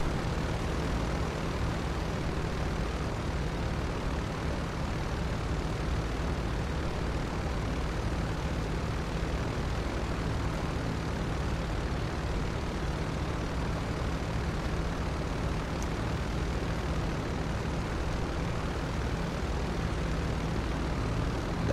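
Engines of a US Coast Guard cargo plane after landing, a loud, steady broadband roar with a low droning hum underneath, continuous and unchanging, with no speech.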